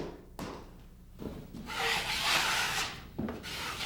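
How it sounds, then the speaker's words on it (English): Ready-mix drywall joint compound is stirred in its bucket, heard as close wet scraping and rubbing strokes, with a few sharp knocks against the container between them. "you still have to stir the ready mix to even it out"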